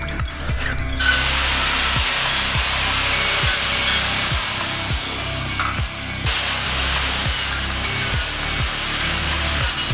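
A lower control arm from a Nissan 240SX drift build is deburred with a power tool for a DIY angle kit: a loud, continuous rasping grind with repeated low whirring sweeps, close by and with no voices.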